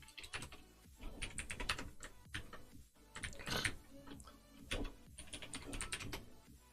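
Fast, steady typing on a computer keyboard close by, clusters of crisp key clicks separated by short pauses, with no voice over it.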